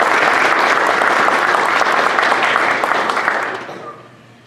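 A close, loud burst of audience applause at an arts awards ceremony in Labrador City, steady dense clapping that fades out over the last second.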